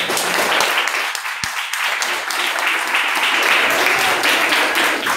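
Warm congregation applause during a closing Mass for a patron saint's feast in a village church, a full, continuous round of clapping from a large gathering, steady and loud throughout.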